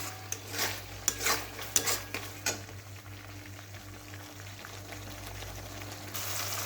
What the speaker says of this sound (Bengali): এটা একটু ভালো করে এখন ভাজা হবে